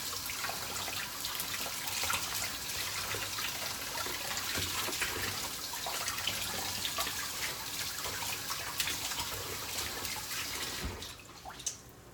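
Chalk Couture transfer rinsed under a running tap, a steady close splash of water hissing continuously before easing off at the end.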